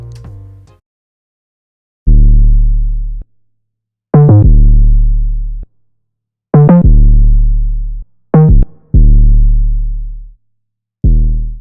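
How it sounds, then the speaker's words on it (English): A deep sub bass patch from Alchemy in Logic Pro X plays in a beat: five or six loud, booming low notes, each with a short clicky attack and a sustained, fading tail, separated by silence. "For the bass, I'm going to use the deep sub bass from Alchemy that is on Logic."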